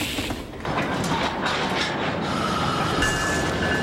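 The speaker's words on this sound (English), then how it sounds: "Everywhere you look, freight trains are part of the economy." A freight train rolls past in a CSX railroad advert, a continuous loud rumble of wagons with rattling wheel noise and faint metallic squeal, steady throughout.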